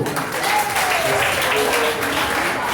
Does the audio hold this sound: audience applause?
yes